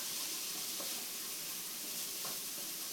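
Onions and garlic sizzle steadily in a hot pan while being stirred, a continuous close frying hiss with faint scraping, no voices.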